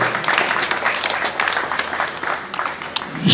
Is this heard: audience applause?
yes